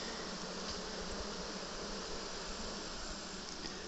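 Dense, steady buzzing of many honey bees at an open hive during an inspection, a continuous close drone that holds evenly throughout with no talk.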